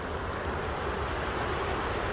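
The fast, heavy-volume current of the Yakima River gives a steady, dense rushing roar of water, loud and close, with no pauses or voices.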